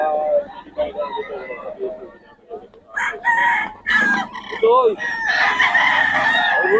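A rooster crows loudly several times close by at a Bocaue poultry seller, with people talking over and between the crows.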